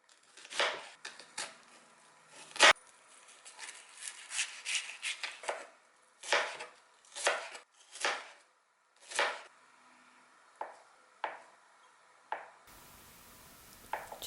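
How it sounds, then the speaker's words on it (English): A knife slicing button mushrooms, green onions and spam on a cutting board, a close series of crisp, separate cuts in an uneven rhythm, each short chop standing apart from the quiet room around it. "So I'm starting off by cutting some vegetables, and I'm using button mushrooms, green onions, and spam"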